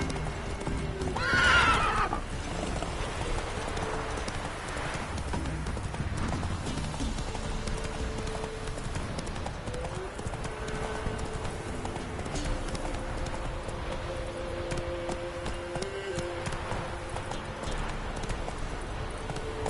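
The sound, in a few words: horse Roach galloping, from a video game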